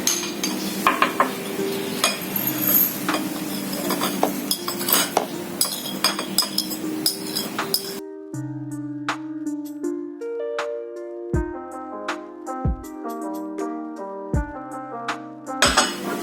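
In a chemistry lab, three grams of granulated sugar go into a glass beaker with a spoon, making close clinks and scraping over rustling noise for about eight seconds, then music takes over.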